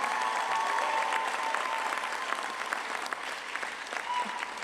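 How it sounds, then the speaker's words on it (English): A graduation ceremony audience applauds the 2023 emergency medicine residents, sustained steady clapping from a large crowd with faint voices and cheers mixed underneath. "So big round of applause for our emergency medicine residents."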